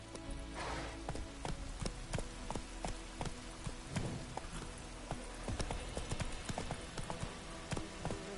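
Horse hooves gallop in The Witcher video game, a fast, steady run of clopping beats close up over a soft ambient background, with no clear talk.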